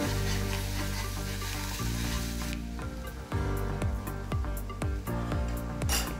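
Food frying in a pan while making paala munjalu, a Sankranti sweet, heard as a dense sizzle that thins out into repeated metallic scrapes and taps from stirring, no voices.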